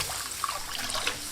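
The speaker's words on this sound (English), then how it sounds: "Now we're gonna add in the water for the rice." Water poured into a cooking pot for basmati rice, a steady soft trickling splash heard close up, fairly quiet and continuous, with no talking.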